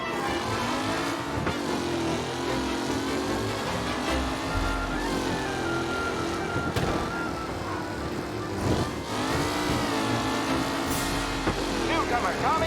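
Vintage race cars in a race in the video game Mafia: Definitive Edition, engines roaring and rising and falling in pitch as cars pass close by, continuous throughout with voices talking over them.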